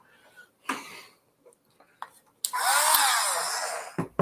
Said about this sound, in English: I have to grind them down. This wheel will work even though it's a screw on.